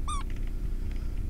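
A single short cat meow in Shogo: Mobile Armor Division, clear and close at the very start, followed by low background game ambience.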